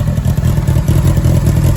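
A Yamaha YZF R6 motorcycle engine idles loudly and close by, its low chugging pulses slightly irregular and uneven.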